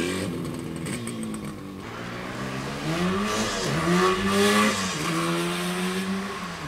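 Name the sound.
1974 Yamaha RD350 two-stroke motorcycle doing a power wheelie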